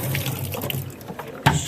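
Water runs from a sink tap as a paint water cup is rinsed out, a close, steady splashing stream with small bursts of splatter and a sharper gush near the end.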